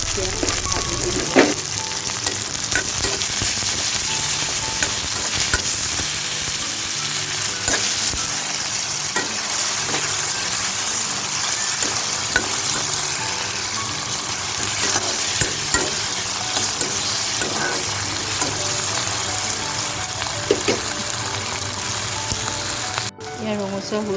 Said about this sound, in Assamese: এতিয়া মই ভাজি দিলোঁ।